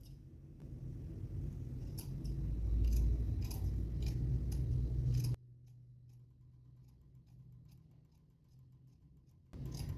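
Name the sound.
scissors cutting fabric while sewing shapewear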